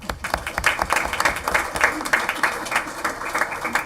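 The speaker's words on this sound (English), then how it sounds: "We can give him another round of applause." A room at a school board meeting breaks into applause for a student board member: brisk, fairly close clapping from a modest crowd, with a few voices mixed in.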